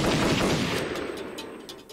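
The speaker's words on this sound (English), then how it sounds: "And some shots being fired." Several sharp gunshots crack one after another over a noisy rumbling background, fairly loud and close.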